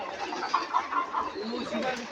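Hens cluck nearby in short, soft repeated calls spaced irregularly over a low background hum, with no talk.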